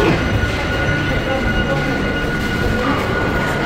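A train rumbles at a railway station, a loud continuous roar of wheels and motors with a faint high squeal, filling the whole moment without pause.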